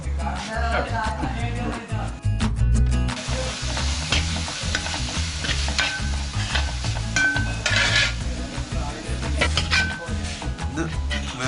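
Cooked naran prawns sizzle in a pan with salt, turmeric and kudampuli at a Kerala toddy shop while a prawn roast is made. A spoon stirs and scrapes continuously against the pan over a lively frying crackle, with occasional clinks.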